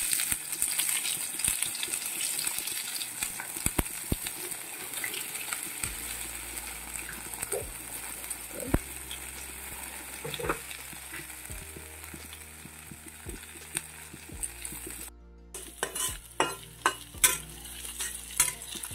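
Dried red chillies, cumin seeds and chopped ginger fry in hot oil in a pan, a soft continuous sizzle broken by scattered crackles, pops and a few clinks of a spoon, close by with no talking.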